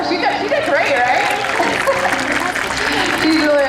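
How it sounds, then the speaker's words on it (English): An audience claps for Shuka, a participant at an orca research presentation, in a loud, steady wash of applause with a little chatter mixed in throughout. "how do you guys give a round of applause for Shuka?"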